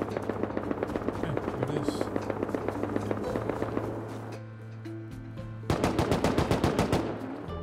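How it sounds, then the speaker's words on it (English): Explosive ammunition firing in the Rust video game: rapid, loud bursts of automatic gunfire with sharp rhythmic cracks, a brief lull with a droning hum, then another fast, intense volley. "I heard Expo bullets going off"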